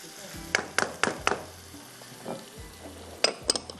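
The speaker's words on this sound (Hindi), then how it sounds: "ये मसाला इसके साथ मैंने थोड़ा सा इसकी भुनाई करते हैं यहाँ पर।" Sesame, cumin, poppy seeds, whole coriander and curry leaves dry-roast in a pan with a soft sizzle, broken by several sharp scraping stirs near the start and again near the end.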